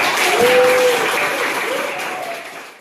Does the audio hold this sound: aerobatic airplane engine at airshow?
no